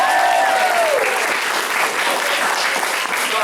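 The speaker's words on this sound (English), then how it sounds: "Give him a big round of applause." Applause at a martial arts belt ceremony, a dense steady clatter of many hands clapping throughout, loud and close, with a brief voice at the start.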